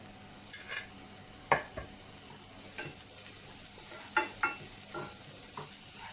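Onions and capsicum fry in a pan for mushroom manchurian with a soft, steady sizzle, broken by several sharp clanks and scrapes of a spoon stirring against the pan.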